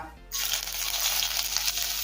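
Chopped ginger dropped into well-heated oil in a wok while making vegetable chowmein sets off a sudden loud burst of sizzling that stays steady and close, with no talk.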